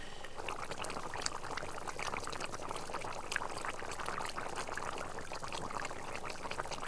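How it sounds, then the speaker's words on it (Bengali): Fried katla fish going into a simmering cauliflower curry, a faint steady bubbling and sizzling with soft splashes and liquid sounds throughout. "বন্ধুরা এবার ভাজা মাছগুলো দিয়ে দেবো ঝোলে।"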